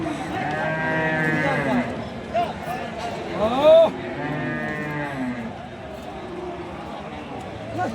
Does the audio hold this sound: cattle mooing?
yes